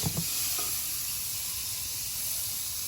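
Garlic fries in fish oil, a loud, dense sizzle heard up close, with a couple of brief clatters at the start before a steady hiss.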